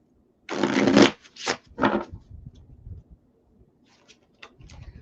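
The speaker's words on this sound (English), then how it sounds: "One more shuffle here. I love these cards. They're foil cards, but they're a little slippery" Foil tarot cards being shuffled, a slippery riffling burst followed by two shorter shuffles, then softer scattered card handling near the end.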